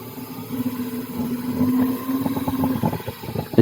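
Nami Blast Max electric scooter motor under throttle, a close low hum with a rising whine and some wind noise that pulses as speed builds, no talking.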